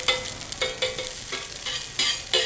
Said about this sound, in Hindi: अंडा डाल के जल्दी जल्दी बस इसको मिक्स करना ताकि थोड़े पीसीज हो जाए ये